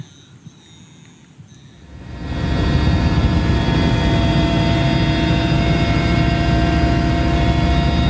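Aircraft engine noise from firefighting planes or helicopters swells in after a quiet start, settling into a loud, steady roar that holds to the end.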